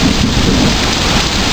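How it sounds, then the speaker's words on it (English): A thunderstorm pours heavy rain, a dense, loud, unbroken hiss of rain with low rumbling thunder underneath. "Thunder, lightning, bang bang, everything going on."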